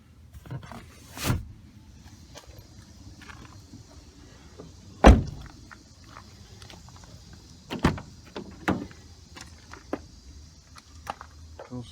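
A sharp thud of a 2005 Lexus ES330 car door shutting at about five seconds, preceded and followed by a few softer knocks and clicks in a quiet space.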